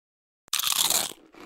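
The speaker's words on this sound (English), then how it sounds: "It's the crisp crunch of that first nacho chip." A crisp, loud crunch of a tortilla nacho chip being bitten, starting abruptly after silence, a dense burst of crackle lasting about half a second and then trailing off into softer chewing.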